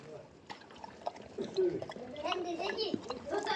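A puppy laps and slurps water with wet gurgling and dripping sounds close by, a person talking over it.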